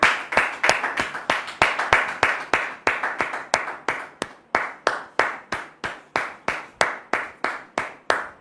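A church congregation claps to welcome a pastor, with strong, fairly even handclaps sounding in a steady rhythm throughout and no voices over them.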